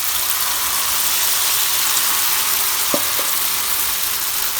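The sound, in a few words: Jamaican flour fritters frying in oil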